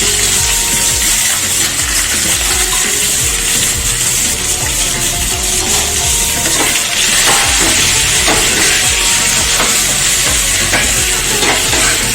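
Onion, panch phoron, curry leaves and two red chilies frying in hot oil, a loud, dense, continuous sizzle with scattered crackles and stirring, close and steady throughout.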